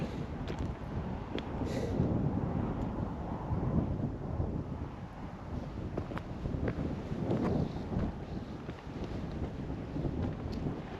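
Steady, loud wind buffets the microphone on a mountain trail in Davis Mountains State Park, roaring in broadband gusts with no speech for the whole stretch.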